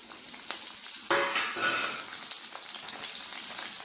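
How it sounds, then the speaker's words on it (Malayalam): Onion, garlic, shallots and green and dried red chillies sauté in hot oil for a chutney with a close, steady sizzle, broken by a louder surge and a few stirring scrapes. "ഇനി ഇത് നമുക്ക് നല്ലപോലെ ഒന്ന് വഴറ്റിയെടുക്കാം"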